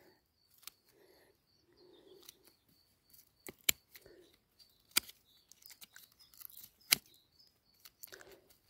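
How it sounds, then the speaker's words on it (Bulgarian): Scissors snip through thin dew roots of a grapevine in the soil, a few sharp, isolated clicks spaced out over several seconds, with soft rustling of dirt in between. "Които са по-тънките, ги режа с ножицата така."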